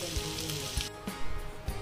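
Masala frying in oil for a Sambalpuri mutton and potato curry, a close, steady sizzle with a few soft stirring knocks.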